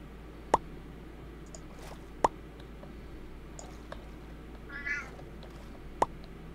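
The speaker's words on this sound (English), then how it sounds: "Joseph's cat is tough." A cat meows faintly once amid sharp, evenly spaced clicks and soft squishy game sounds in a Minecraft modpack world.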